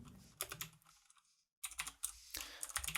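Clusters of keystrokes on a computer keyboard while coding, a rapid run of clicks, then a brief silent pause, then more dense typing, close and fairly quiet.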